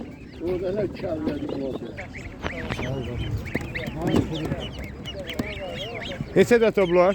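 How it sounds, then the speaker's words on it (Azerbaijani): Local goose chicks for sale at a poultry and bird market in Ganja, honking and peeping in busy bursts close by, under steady conversation between people at the stall. "Və bu yerli qaz cücələri 9 manata"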